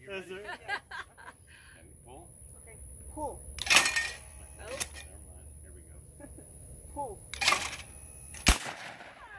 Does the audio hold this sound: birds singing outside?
no